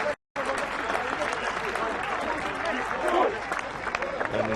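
Steady clapping from schoolboys at a rugby match, with outdoor noise and voices mixed in, broken by a short gap near the start.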